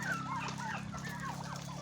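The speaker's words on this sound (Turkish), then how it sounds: "Horozlar" Several chickens and roosters cluck and murmur close by, their short, overlapping calls rising and falling over a steady low hum.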